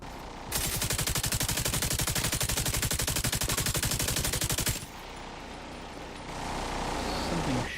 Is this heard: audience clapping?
no